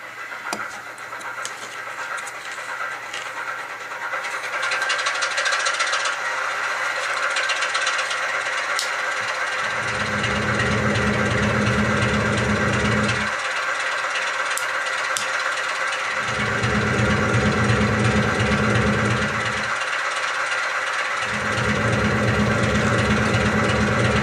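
A model diesel locomotive's engine sound rumbles steadily through a subwoofer switched in and out, its deep bass cutting in and out in blocks while the higher engine drone stays constant.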